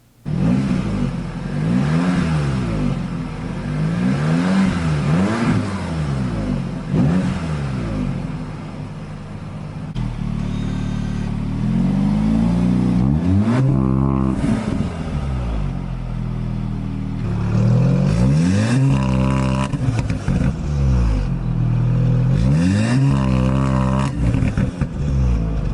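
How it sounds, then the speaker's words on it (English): Revving exhaust of an Audi S3, first on the stock system and then fitted with a CTS Turbo catted downpipe; repeated loud rises and falls in engine pitch with a steady low drone between blips, close by and without talk. "I'm going to insert a video clip of the stock exhaust for my S3 and then a video clip after my S3 when I put the CTS downpipe in"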